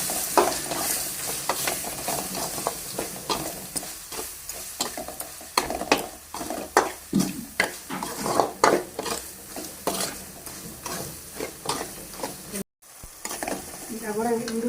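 A spoon stirs dry fish and broad bean curry in a pan, giving steady scraping and sizzling strokes in a quick, irregular rhythm, close and clear with no talking.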